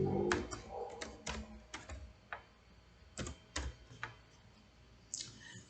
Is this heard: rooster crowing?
no